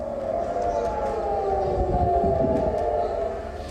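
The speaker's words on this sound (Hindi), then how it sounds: "तीन शहरों में जंग का सायरन बजने लग गया।" A wartime air-raid siren wails across Israeli cities during a Hamas rocket attack, a steady sustained tone held loud throughout under a wash of background noise and faint voices.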